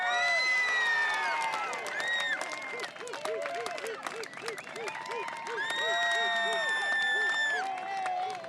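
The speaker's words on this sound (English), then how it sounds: "how about we give these incredible artists a round of applause?" A competition audience claps and cheers for sandblasting artists, the lively crowd noise and shouts running throughout and mixed with loud, high whooping voices.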